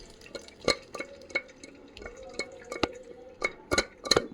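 Water from cooked lentils draining into a vessel below: soft, irregular drips and small splashes, quiet and close, with intermittent light clinks.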